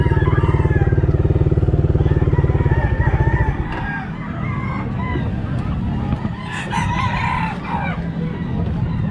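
Gamecock roosters at a market crow loudly several times over a steady motorcycle engine idling nearby. After the engine stops, the crowing and clucking continue amid background bustle.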